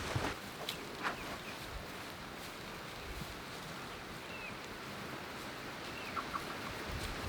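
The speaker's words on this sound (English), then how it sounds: "These chickens are waiting to come over here and scratch." Chickens in a backyard coop near a garden give scattered soft clucks and short calls over a steady outdoor background, fairly close and moderately faint, with no one speaking.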